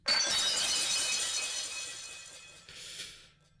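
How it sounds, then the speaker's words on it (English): A shotgun blast shatters a body frozen in liquid nitrogen in the horror visual novel Saya no Uta, heard as a loud, bright crash of breaking, glassy debris that slowly decays, followed by a smaller second burst of scattering fragments. "The impact of shotgun pellets obliterated the half of Saya's body that fell prey to the liquid nitrogen"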